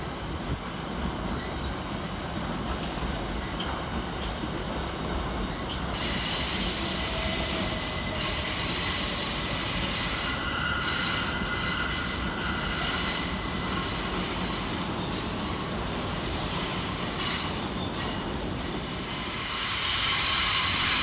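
Great Western Railway Class 387 electric multiple units at London Paddington station, one formation arriving and another departing, with wheels squealing and a steady rumble of railcars rolling through the platform, loud and continuous with no talk.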